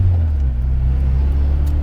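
A 1992 Honda Accord LX (CB7) engine runs with a steady, loud low hum and rumble, close and continuous with no talking.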